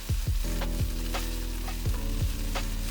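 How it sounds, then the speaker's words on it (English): Onions with ginger garlic paste sauté in a pan: a loud, steady sizzle runs throughout, broken by repeated scraping stirs from a spoon against the pan. "Once your onions are translucent, you can add the ginger garlic paste and saute until it no longer smells raw."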